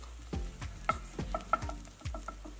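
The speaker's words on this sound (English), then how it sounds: "I'm then going to add in my garlic and continue to stir these in the pan" Onions and garlic sauté in olive oil as a spoon stirs them around the pan in a series of quick, rhythmic scraping strokes over a soft sizzle.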